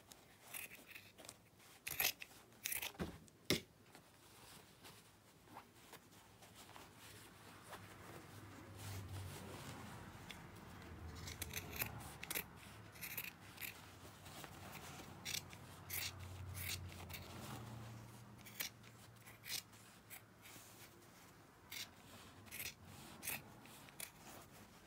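Scissors trim fabric in a quiet room, with repeated close, soft snips and rustling of the cloth.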